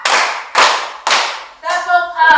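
A group of women clapping hands together in a counted warm-up rhythm during a classroom session, three firm, evenly spaced claps followed by a voice speaking.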